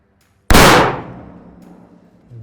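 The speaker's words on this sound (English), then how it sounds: "is going to be shooting it into ballistic gelatin" A single loud gunshot fired into a ballistic gelatin block outdoors, a sharp sudden crack that rings out and decays over about a second, with a faint rustle afterward.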